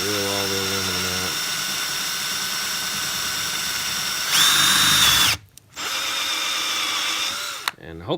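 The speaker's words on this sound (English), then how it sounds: "drill all the aluminum out" An electric drill with a 5/32 bit whines at a steady high pitch while drilling out aluminum on a Barcelona chair strap, changing tone briefly, cutting out, then resuming before stopping.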